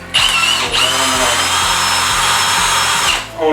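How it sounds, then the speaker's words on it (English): Power drill fitted with a masonry bit starting a hole while installing a glass panel, a loud continuous whine that spins up, holds steady for about three seconds, then winds down, close and alone. "hone it out with a masonry bit."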